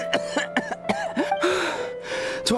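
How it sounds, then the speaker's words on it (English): A character in the video game Genshin Impact coughs violently, a series of sharp, loud hacking coughs in close succession with brief gasping breaths between them. "Violent coughing?"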